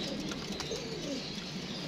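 Pigeons coo softly as they arrive at their loft, giving low throaty calls over a steady background hum, with no speech.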